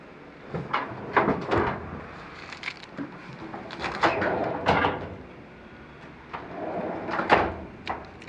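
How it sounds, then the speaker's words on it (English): Sandusky 36-inch lateral steel file cabinet drawers being pulled open, a series of sliding metal rattles and clunks at an even, close distance, with short pauses between each drawer. "Drawers open up all right."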